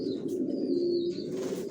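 Young racer pigeons coo in a low, continuous throaty murmur, close and fairly loud, with a faint higher chirp above it.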